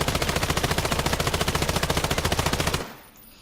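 A gun in the video game Islands of Nyne fires a rapid, even automatic burst of about thirty loud shots, then cuts off abruptly into quiet.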